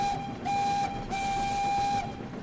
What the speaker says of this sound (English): No, that's just my whistle.